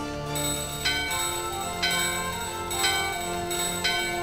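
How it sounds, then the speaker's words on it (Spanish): A bell struck in the video game Final Fantasy IX rings out in repeated metallic strikes roughly once a second, each tone sustaining into a long shimmering overlap, loud and clear with no talk. "Toca la campana."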